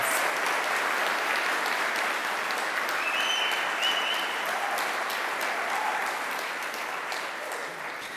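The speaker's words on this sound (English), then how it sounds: "let's give another round of applause for the Cincinnati Children's Hospital Medical Center interns" Sustained round of applause for hospital interns at a graduation ceremony, a steady wash of many hands clapping that stays even and fairly loud from start to finish.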